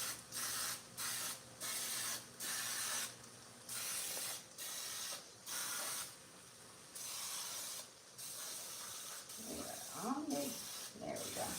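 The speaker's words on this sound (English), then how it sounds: "But spray them down." Non-stick baking spray hisses onto a muffin tin in repeated short bursts with brief pauses between them, close and fairly loud, with a voice speaking briefly near the end.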